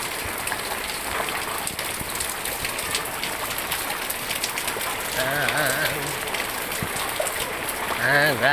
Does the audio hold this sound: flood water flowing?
yes